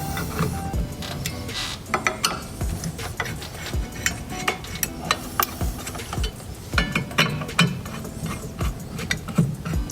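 Plastic cable management cover on a monitor mount being loosened, giving a steady run of small clicks, rattles and scraping handling noises, close and fairly loud with no talking.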